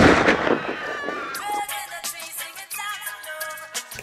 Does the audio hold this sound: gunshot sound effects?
yes